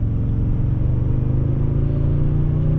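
A 2022 Toyota Tundra Limited 4x2 CrewMax pickup accelerates past traffic, its engine giving a steady, loud low rumble from inside the cab with no one talking.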